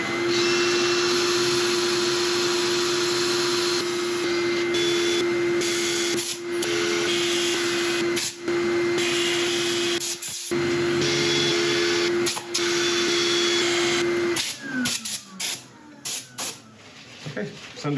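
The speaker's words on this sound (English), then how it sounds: "I'm going to set up for sanding." A steady whirring lathe hum with a constant tone, overlaid by rough hissing and scraping of sanding an oak bowl that rises and falls, ending in choppier bursts.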